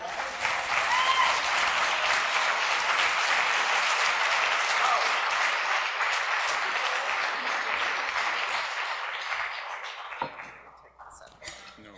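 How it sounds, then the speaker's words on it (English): A leadership exchange session audience in Washington, DC gives a long, dense round of applause that holds steady and loud, then thins and fades out near the end. "I hope you give me a round of applause for our EMCs."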